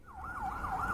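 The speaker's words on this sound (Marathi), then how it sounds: "तेव्हाच एक पोलिसांची गाडी तिथून जाते." A police car siren wails as the vehicle passes along a road during lockdown, a single rising and falling tone sweeping a few times, moderately loud and alone.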